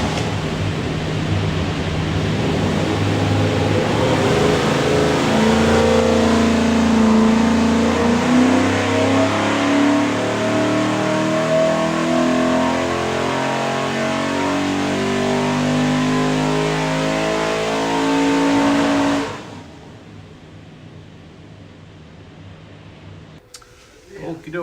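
A 363 cubic inch small block Ford V8 with stack injection and an Aviaid oil pan, built for a GT40 replica, roars loud and sustained under full load on a dyno, rising in pitch for about twenty seconds before cutting off abruptly.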